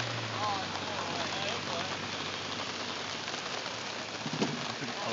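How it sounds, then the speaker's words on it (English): Driving rain on a golf course gives a steady, dense hiss of rainfall with wind noise, continuous and fairly loud throughout, with a brief thump near the end. "in the driving rain, Ken Turner, golfing extraordinaire."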